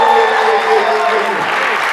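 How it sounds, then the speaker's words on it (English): A wedding reception crowd breaks into a round of applause, steady dense clapping that holds loud and then gradually thins out. "Can we give one amazing round of applause for them?"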